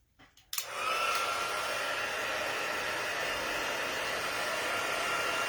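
A heat embossing tool blows steadily after a short switch-on at the start, a loud, constant hot-air roar like a small hair dryer aimed at a card, continuing alone for about five seconds.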